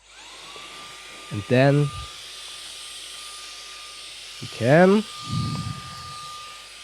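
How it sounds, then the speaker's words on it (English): A small handheld desk vacuum cleaner runs with a steady, thin high-pitched motor whine throughout, while a person talks over it in short bursts. "Obviously it's a vacuum cleaner."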